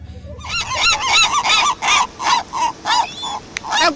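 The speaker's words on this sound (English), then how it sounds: "Hello, Seagulls." Seagulls call in a loud, close series of about a dozen harsh honking cries in an even rhythm, with no talk over them.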